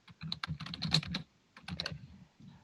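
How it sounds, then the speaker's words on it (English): Someone types on a computer keyboard during a live virtual design sprint session. Two quick bursts of close, clicky keystrokes are separated by a short pause. "So, are you typing more, Rom?"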